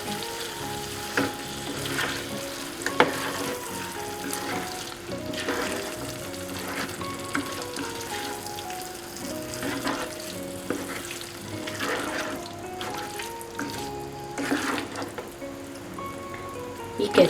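Spicy chicken roast with ketchup frying dry in a pan, a low continuous sizzle with occasional spoon scrapes and clinks, faint voice now and then in the background.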